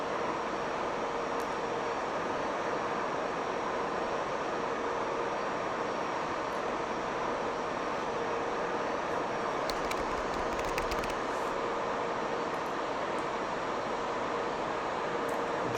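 A simulated aircraft engine in the flight simulator X-Plane 12 drones steadily and evenly throughout, a continuous broadband roar with no talk over it.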